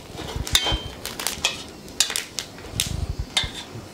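Green and red peppers are stir-fried in a dry wok with no oil. A spatula clatters and scrapes against the metal in a few sharp, uneven knocks.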